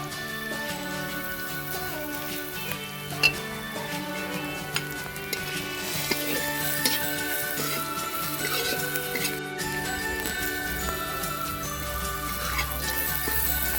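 Dry spices with onion, garlic, ginger and chilli fry in a pan for a Bengali mochar chop, a steady sizzle with occasional sharp clinks of a stirring spoon, close and continuous under soft background music.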